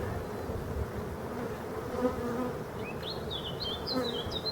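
Wild honeybees buzz around an opened hive with exposed comb of workers and males, a dense, steady, close drone with a few higher passing whines.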